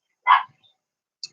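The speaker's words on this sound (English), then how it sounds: "What are the dogs barking at?" In a reptile room, a dog lets out one short, sharp bark close by, then a faint, brief yip a moment later, with silence around them.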